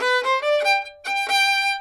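A fiddle plays a short phrase of light, airy bowed notes, the bow barely touching the string, with a brief pause between two groups.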